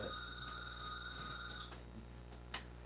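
A telephone bell rings steadily for about a second and a half at moderate volume, cutting off suddenly. A faint click follows afterwards in a quiet room.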